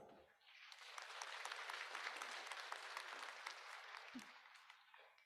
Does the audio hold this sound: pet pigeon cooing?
no